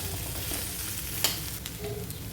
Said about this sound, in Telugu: ఇప్పుడు బెండకాయలను ఆయిల్లో ఒక 2 మినిట్స్ దాకా ఫ్రై చేసుకోవాలి.